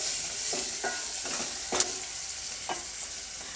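Onion fries with a pinch of salt in a pan for a buttermilk curry, a steady close sizzle punctuated by a few soft stirring scrapes, with no voices.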